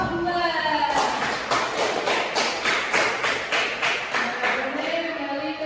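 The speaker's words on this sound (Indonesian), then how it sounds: "Beri tepuk tangan untuk kelompok 2." Classroom applause for a student group, a brief burst of many hands clapping in a fast uneven rhythm that swells and then fades out.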